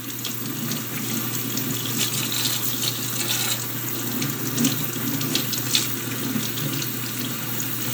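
Water runs steadily from a tap while hair is being washed, a constant hissing splash with small shifts as the stream is interrupted, close and alone with no talk.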